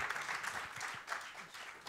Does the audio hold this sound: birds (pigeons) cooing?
no